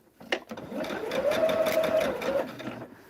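A sewing machine stitching quilt fabric for a Hunter Star quilt runs in one steady whirring burst of about two seconds, loud and close, with a faint voice around it.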